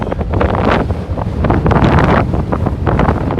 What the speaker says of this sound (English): I'm sorry for the wind sound.